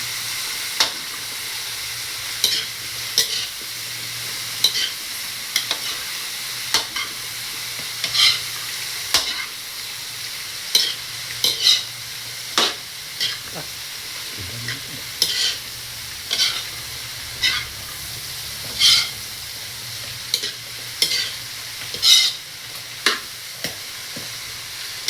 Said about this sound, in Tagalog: At ito ay igisa.